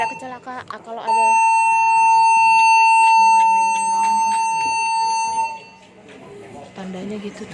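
Emergency alarm signal on the Quantum of the Seas cruise ship during a muster drill: a loud, sustained electronic tone holding steady for several seconds, with people talking before and after.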